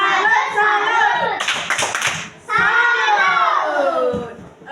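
Children in a classroom clap a rhythmic salute, with chanting voices over the claps before a short burst of brighter clapping and cheering, then more chanting; loud and close.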